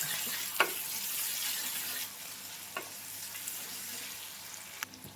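Spring onion bulbs sizzle steadily in a pan with salt while being stirred, a soft continuous frying hiss broken by a few sharp spatula clicks against the pan, quiet and close, with no voices.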